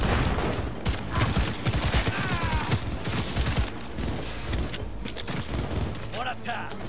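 Gunfire in the video game Cyberpunk 2077, dense rapid bursts of shots and booms packed together, loud and continuous, with in-game effects and voices mixed in.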